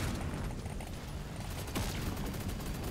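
Dense, continuous rapid weapon fire from an autocannon hitting a boss in Deep Rock Galactic: Survivor, a steady rattling barrage mixed with busy game effects, held at an even level throughout.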